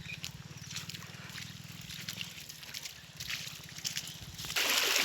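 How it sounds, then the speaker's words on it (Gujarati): Rainwater from nearby fields washes across a road after three days of rain, a steady broadband rush and trickle that continues throughout and grows louder near the end. "પાણી ખેતરોમાંથી આવે છે એટલે વરસાદ આવી ગયો ને, વરસાદ 3 દિવસનો વરસાદ હતો"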